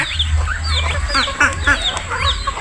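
Several backyard chickens cluck and chatter close by in quick overlapping bursts, a busy farmyard murmur that runs throughout at moderate loudness.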